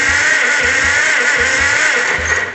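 A choked engine turns over and fires, loud rapid low chugging pulses under a harsh broadband roar that tapers off near the end, with no speech.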